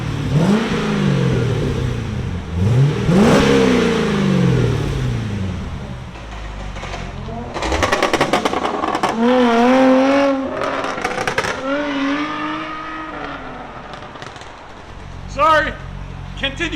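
A 2008 Chevy Corvette with an LS3 V8, 14-inch Magnaflow mufflers and an X pipe revs in sharp, deep bursts, several quick rises and falls up close, and a voice talks over part of it.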